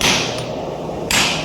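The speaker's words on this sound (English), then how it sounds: "you can hit with your hammer all along the edges" Two hammer strikes land on a Dane axe being forged, each a short, bright metallic hit, about a second apart and heard close up.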